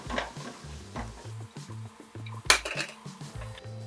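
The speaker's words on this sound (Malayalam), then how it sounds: "ജസ്റ്റ് ഒന്ന് വഴറ്റി കൊടുക്കാം." Ripe tomato with a pinch of turmeric stirred in a pan, with repeated scraping and clinks of a utensil against the metal, a few sharper knocks, and a faint sizzle underneath.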